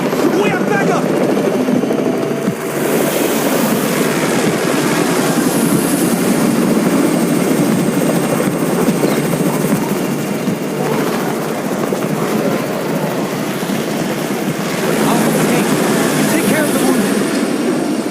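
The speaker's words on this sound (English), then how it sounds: "It's the Raven's chopper!" A helicopter arriving in the zombie video game Undawn, its rotor roar loud and continuous throughout with a steady rumbling wash, joined by game sounds and voices over it.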